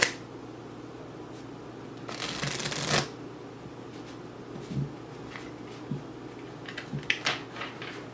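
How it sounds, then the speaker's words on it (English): A Virtuoso playing-card deck is shuffled close up, with a dense riffle burst followed by lighter scattered card flicks and taps. "Things like shuffling the deck"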